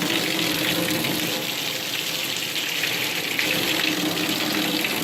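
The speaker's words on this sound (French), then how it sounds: "regardez comment elle est puissante" Powerful spring water gushing from a pipe outdoors, a steady, dense rushing splash heard close up and fairly loud, with no voices.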